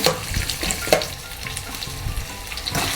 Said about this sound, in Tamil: வெங்காயம் வதங்குறதுக்கு